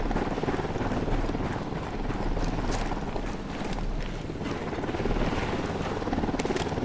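A helicopter approaches in the video game Ghost Recon Wildlands, its rotors making a steady, rapid thudding drone with a windy rush that fills the whole moment.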